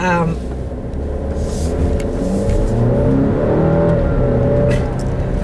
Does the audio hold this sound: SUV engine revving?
yes